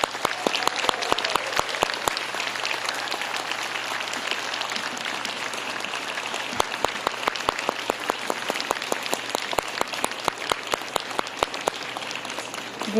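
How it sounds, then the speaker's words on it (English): Audience applauding graduates at a December 2025 nursing school pinning ceremony, sustained steady clapping from a large crowd for about thirteen seconds, with occasional sharper individual claps standing out. "let's give one more round of applause for graduating the"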